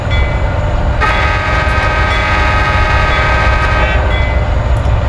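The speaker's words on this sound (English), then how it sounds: "Just doing a warning tone there to warn passengers to stand back as we pass through old time." A CSX GE AC6000CW locomotive in Train Simulator 2019 sounds a loud, sustained horn warning tone over the rumble of the moving train, the horn starting about a second in and holding for several seconds.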